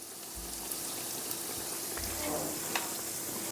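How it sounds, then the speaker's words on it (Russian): Pirozhki fry in vegetable oil over medium heat, a close, steady sizzle with faint crackles and a few soft bumps from handling. "Обжариваю пирожки на среднем огне буквально по 2 минуты с каждой стороны, до красивого золотистого цвета."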